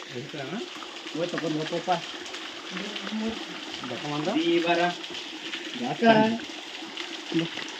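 Water falling and gushing at Ramadurga, a continuous splashing rush heard close by under people talking.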